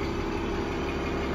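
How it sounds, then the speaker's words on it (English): A 2008 International 7400 flatbed truck with a knuckle boom idles close by, its diesel engine giving a steady, even rumble with a constant hum and no voices. "The truck does run and drive really well."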